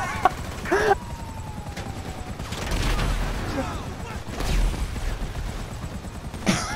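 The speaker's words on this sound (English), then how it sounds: "He's shooting him." Gunfire in Grand Theft Auto V: a sharp shot near the start, then scattered bursts and a heavier blast midway, amid game noise and a voice speaking.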